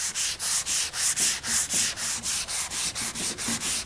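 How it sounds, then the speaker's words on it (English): Steady back-and-forth strokes of a sanding block on primer on an auto body panel, about four per second, rasping close up with a rhythmic swell on each pass. "I'm sanding up to the edge"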